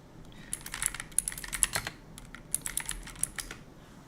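Rapid typing on a computer keyboard during a Pokémon Pocket tournament stream, a quick uneven patter of close key clicks with brief pauses and no talk.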